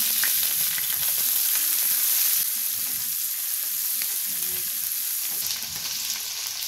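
Garlic frying in hot oil in a pan sizzles loudly and steadily up close, with faint scrapes of stirring underneath.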